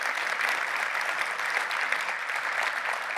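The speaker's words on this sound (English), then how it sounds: "special round of applause to this guy" Dense, steady audience applause at a tech conference keynote in Nashville, filling the room evenly for a few seconds with no voices on top.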